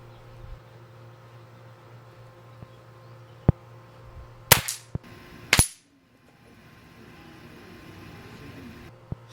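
Air rifles in .22 and .177 fire at backyard targets 24 yards away, giving a few sharp, close cracks spaced a second or so apart over a quiet hum, with faint softer ticks between.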